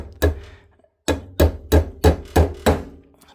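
A hammer tapping a bearing pin into a foosball man: one sharp knock, a pause, then six evenly spaced, crisp taps close by.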